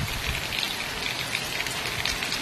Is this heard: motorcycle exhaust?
no